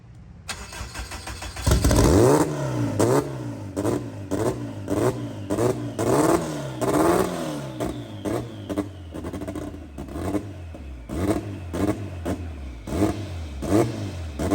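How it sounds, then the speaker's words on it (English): A turbocharged, all-wheel-drive B-series Honda Civic EK starts up and launches, its engine revving hard through repeated rising and falling pulls, loud and close, with no talk over it. "You just launched the car."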